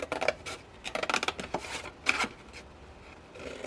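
Scissors snip through paper to cut the panels of a handmade gift box. Quick close crisp cuts come in clusters, with short pauses between them and faint rustling, and nobody talks.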